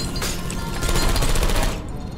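Turret in Portal 2 letting off a rapid, loud burst of fire that runs for about two seconds and then stops short, with no voices during it.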